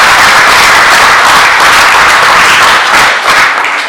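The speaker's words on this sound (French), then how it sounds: "il faut applaudir le peuple gambien" Loud, dense applause from a crowd gathered for a political address on the Gambian crisis, continuous and close, easing slightly toward the end.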